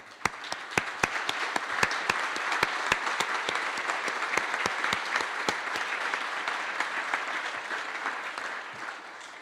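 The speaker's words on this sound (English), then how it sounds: "we can all give them and the Good Karma Brands team a round of applause for their courage this evening" A gala audience at the Beaver Dam Chamber of Commerce Black Tie Blue Jeans event gives a round of applause for Bill's family, starting with sharp individual claps that swell into steady dense clapping before fading slightly.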